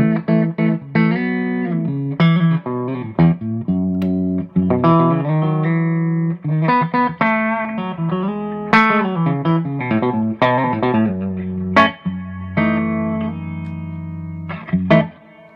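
An electric guitar, a Fender Jerry Donahue Telecaster, plays clean chords and single-note phrases through a Tupelo harmonic tremolo pedal with its volume boost fully up, the notes ringing loud and close with short gaps between phrases.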